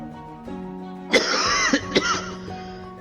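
A man coughs in a harsh cluster of several hacking coughs and throat clearing, close and loud, over a steady background hum.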